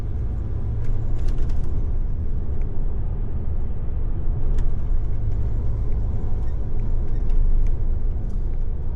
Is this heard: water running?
no